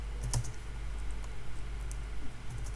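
Soft, sparse keystrokes on a computer keyboard as a Linux Mint terminal command is typed, faint clicks over a low background hum with no voice.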